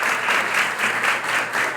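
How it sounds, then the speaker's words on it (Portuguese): A church congregation applauds during an evening service, a short, full wash of many hands clapping together with no pauses. "Vamos aplaudir o Senhor por isso."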